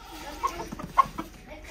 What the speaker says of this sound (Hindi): ओ मुर्गे ने मुर्गे को धप्पड़ लगाया